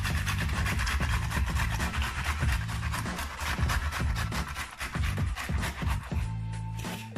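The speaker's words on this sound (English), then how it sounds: "All you need for this is a grater. You set your tomatoes on the side and look how fast this is going to turn into puree." Ripe tomatoes rubbed against a kitchen grater into puree make a rhythmic run of close, wet rasping strokes that repeat steadily with no talking.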